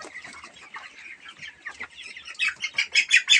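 A chicken clucks repeatedly nearby, its soft irregular clucks building into louder, rhythmic calls toward the end, with no other sounds.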